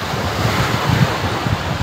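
Strong seaside wind roars against the microphone in a steady, loud rush, with the rumble of surf underneath and no voices.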